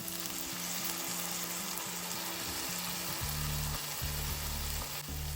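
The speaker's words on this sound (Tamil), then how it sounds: "எல்லாத்தையும் சேர்த்து நல்லா பிரட்டி எண்ணெயில் பொறிஞ்சு அவிய விடுறேன்" Turkey berries (sundakkai) fry in oil while being stirred, a steady close sizzle with light scraping, set against a looping background tune and no speech.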